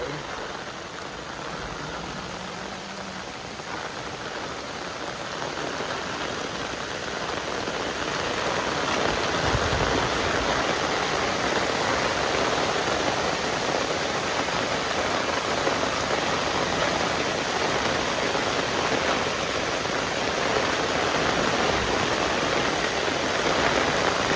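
A continuous rush of flowing water, broad and steady, grows a little louder partway through and keeps going without pause.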